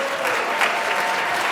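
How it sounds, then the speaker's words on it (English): An audience claps for students at a school event, a dense and steady wash of applause that is loud and close. "Can I just get a round of applause for these students,"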